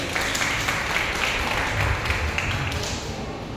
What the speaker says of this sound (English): Everybody, round of applause to Navir.